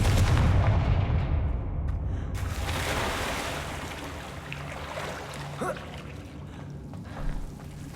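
A Confringo blasting spell goes off in the Hogwarts Legacy video game, a loud booming burst at the start that rolls into a rumbling, decaying wash with a few smaller cracks later on.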